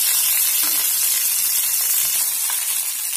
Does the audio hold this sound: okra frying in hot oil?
yes